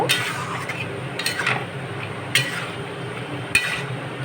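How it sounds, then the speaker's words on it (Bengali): Boiled peas being stirred into ghugni masala in a pan, a few soft scraping strokes with light clinks over a steady low sizzle, close and moderately loud with no talking. "সেদ্ধ করা মটরটাও দিয়ে দেব দিয়ে এগুলো ভালো করে নাড়াচাড়া করব"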